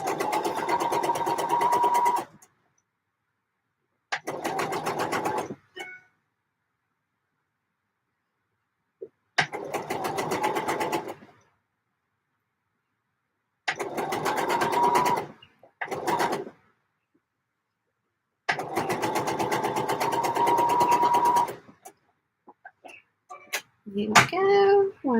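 A sewing machine stitches a dress in several sustained bursts of steady, rapid whirring, separated by silent pauses, with a few clicks and handling noises near the end.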